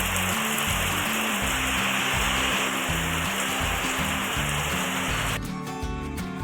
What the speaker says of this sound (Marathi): किती मोठा पाऊस आणि किती छान वातावरण आमच्या गावाकडे असतं